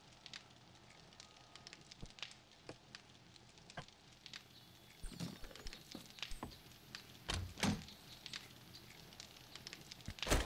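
A campfire in the game 7 Days to Die crackles with sharp scattered pops and snaps, faint at first and then denser and louder, heating dirty water in a plastic bottle.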